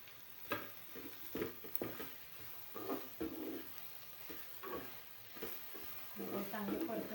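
Okra frying in a pan with onions and spices, stirred by hand: soft sizzling throughout with repeated scraping, shuffling stirs in uneven bursts, close and moderately quiet, while a person talks in the background.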